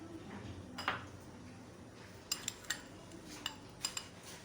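A spoon clinks against a bowl while salt is mixed into flour for pizza dough, giving a few sharp scattered taps over a quiet room.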